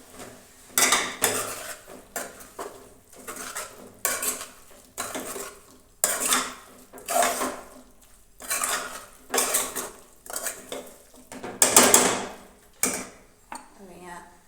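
A spoon stirs turmeric, red chilli powder and coriander-cumin powder into an onion and tomato curry in a metal pan, making repeated rhythmic scraping and clanking strokes, close up, with a soft sizzle between bursts.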